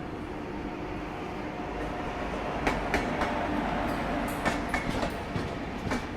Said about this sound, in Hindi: बिहार संपर्क क्रांति एक्सप्रेस, नई दिल्ली दरभंगा।